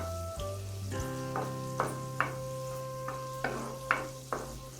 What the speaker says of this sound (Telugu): పండు మిరపకాయలు అంటారు వాటిని బాగా వేపుకోవాలి